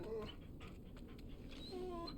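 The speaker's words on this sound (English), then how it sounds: "Oh, dude, the dog noises." A dog in the video game Final Fantasy XVI whimpers and pants, with brief high whines at the start and end over a busy game soundscape, while a person talks.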